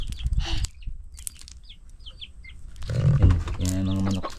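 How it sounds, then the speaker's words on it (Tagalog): Chickens chirp in short, high calls amid rustling and flapping, with low clucking and a person speaking Filipino nearby at times. "Yan mga manok."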